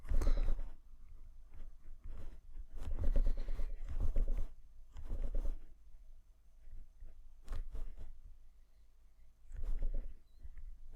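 A pen writes a maths solution on paper in bursts of close, soft scratching and tapping strokes, with short pauses between.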